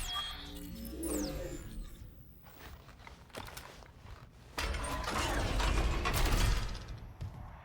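Rifle upgrade at a workbench in a video game: a run of mechanical clicks, ratcheting and metallic clatter, building into a louder grinding stretch toward the end.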